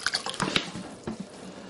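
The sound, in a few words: pouring white vinegar into a container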